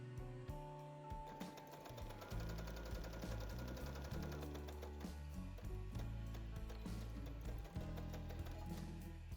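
Sewing machine stitching a 1 cm seam on a bow tie top, a faint, continuous mechanical hum with a fast rhythmic needle patter throughout.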